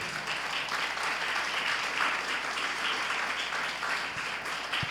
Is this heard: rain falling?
no